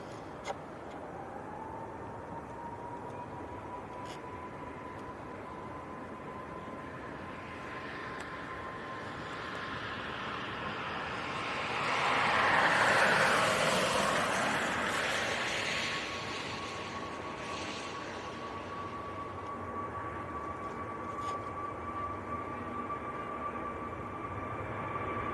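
An Icelandair airliner taxis out at Manchester Airport on a windy day, a steady distant jet whine rising into a broader rushing swell midway, then easing back to a constant hum.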